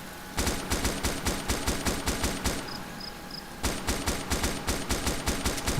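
Sustained automatic gunfire from an AI soldier in Arma 2 DayZ: rapid, evenly spaced shots in two long bursts separated by a brief pause, loud and dominant throughout.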